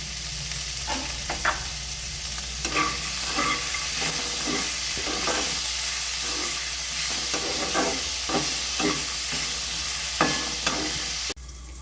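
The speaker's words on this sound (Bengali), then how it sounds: "সিমে দিয়ে ভেজে সবজিগুলোকে সব নরম করে নিতে হবে" Winter vegetables, including flat beans and green chilli with a sprinkle of salt, are stir-fried in a pan for Bengali chire polao. A loud, constant sizzle is broken by repeated close spatula scrapes, then cuts off abruptly near the end.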